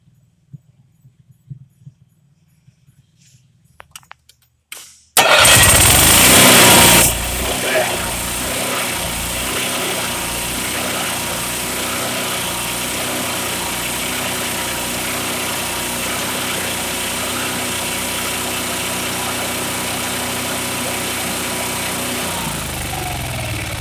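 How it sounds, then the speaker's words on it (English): A 2021 Redhawk 26XD engine cranks and fires up abruptly after quiet handling sounds, roaring loudly at first and then settling into a steady, close idle that runs continuously. "usually when this thing's ready to start, it'll fire right up"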